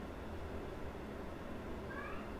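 A cat gives a single faint meow near the end, heard over a steady low hum in a quiet room.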